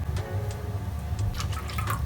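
Tap water pours into a drinking glass at close range, a steady liquid trickle with a few brighter splashy moments as the glass fills, no voices over it.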